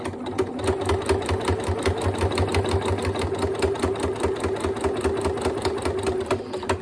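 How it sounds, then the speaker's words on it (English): A domestic sewing machine runs continuously as it stitches pinned fabric pieces for a quilted snack bag. The hum is steady and close, with a fast, regular needle clatter and no talking. "my pins are pointing towards where I'm about to sew"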